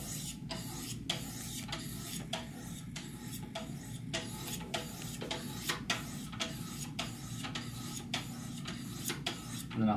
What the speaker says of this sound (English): I'm just going to pick up my 800 grit stones